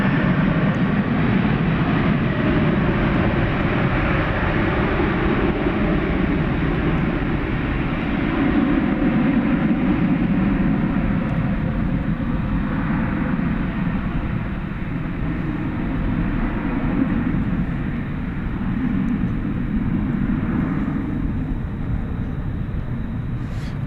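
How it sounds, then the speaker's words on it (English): An Iberia airliner takes off at night at DFW Airport, a loud, steady engine roar with a broad rumbling low end that holds throughout, heard from a distance with no talk. "Off goes Iberia."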